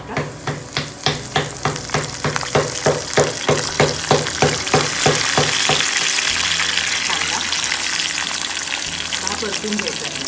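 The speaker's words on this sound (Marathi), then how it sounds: "जिरे तडतडले आता मी घालते कढीपत्ता" Cumin seeds and curry leaves sizzle in hot oil in a pan. Rhythmic stirring or scraping strokes are heard at first, then a steady, loud, close frying hiss takes over with no speech.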